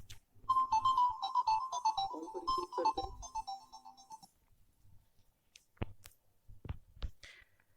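A mobile phone rings with a melodic ringtone for an incoming call during a cell-phone-controlled home automation demonstration. The tune plays for about four seconds, followed by scattered clicks and handling knocks.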